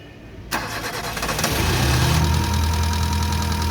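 A Kia Picanto engine, just overhauled after overheating, cranks and catches with a sudden burst, then settles into a steady, loud idle close by, with no talking.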